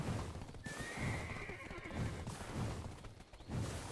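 A unicorn horse mount in the online game Black Desert Online gives a drawn-out whinny, with hoof clip-clops and rustling movement close by.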